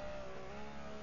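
A Porsche 906 race car engine in the GT Legends racing game runs at full throttle with a steady, sustained high-pitched drone, quiet and brief.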